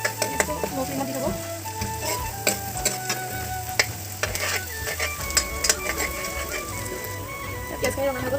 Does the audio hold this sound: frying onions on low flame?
yes